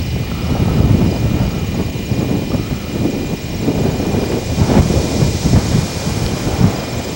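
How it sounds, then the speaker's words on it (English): Wind blows hard outdoors on a ditch bank road beside crop fields, a loud continuous rumbling roar buffeting the microphone, with gusts swelling and easing throughout. "Wind has been picked up."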